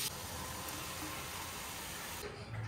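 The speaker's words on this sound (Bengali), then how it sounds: "চিংড়ি মাছটা মশলার সঙ্গে একটুখানি নাড়িয়ে চাড়িয়ে নিয়ে মোচাটা এর মধ্যে দিয়ে একটু কষাবো।" Prawns and banana flower fry with spices in a pan, giving a steady, close sizzle and hiss that runs unbroken until it drops off near the end.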